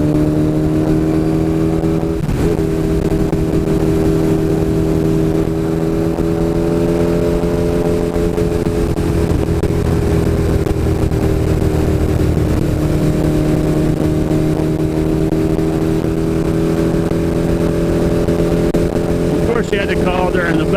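A GS850 motorcycle engine drones loud and steady for the whole ride, holding a constant low hum with slight pitch shifts, heard from onboard with heavy wind rush.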